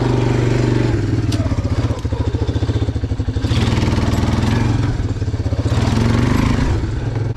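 Honda Fourtrax ATV with a new carburetor running at speed uphill, a loud, steady, throbbing single-engine drone with rhythmic pulsing and surging revs, close and continuous, with a gruff rumble throughout and no audible talk.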